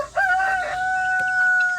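A garden rooster crows close and loud, a single drawn-out call held for well over a second, with faint chicken clucking underneath.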